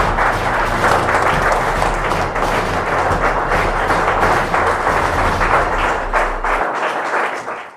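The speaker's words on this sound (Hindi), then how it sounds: "एक बार जोरदार तालियां हो जाएं" Loud, sustained audience applause welcoming a guest at a Hindi talk-show event, a dense wash of clapping that holds steady for several seconds before cutting off near the end.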